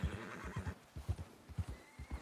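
A horse in Red Dead Redemption 2 gives a short whinny over a steady run of hoof clip-clops, close and fairly soft, with no talking.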